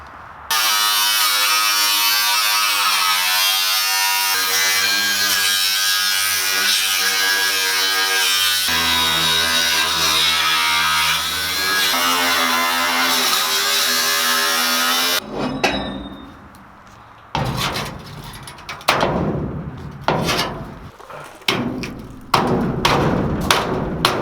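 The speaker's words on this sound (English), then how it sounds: "I gotta grind off a lot of this crap" An angle grinder works on old tube steel during a mobile bar build, giving a loud, steady, close whine for about fifteen seconds, then intermittent bursts and thuds as it stops and restarts.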